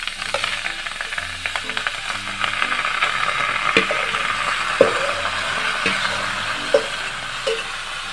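Crushed starfruit sizzles in a hot wok while being stirred, a continuous frying hiss broken by occasional sharp clinks and scrapes of a utensil against the metal pan, close and moderately loud with no talking.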